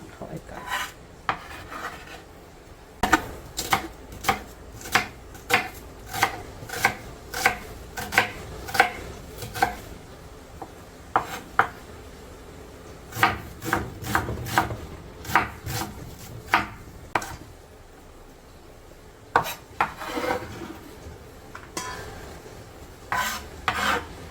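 Knife chopping an onion on a cutting board for a creamy cheesy spinach dip, sharp repeated cuts in uneven bursts, close and fairly loud, with no talking.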